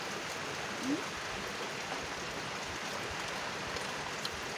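Steady rain falling outdoors during a fish-grilling meal, a continuous soft hiss at low level with a faint brief noise near the start and no talk.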